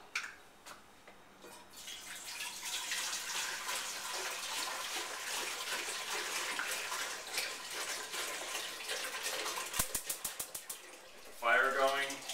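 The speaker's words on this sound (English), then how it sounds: "So first thing we're going to do is put the water in a big pot." Water pours steadily into a big pot for Thai iced tea, a continuous hissing splash for about ten seconds, followed by a few sharp clicks and a brief burst of pouring at the end.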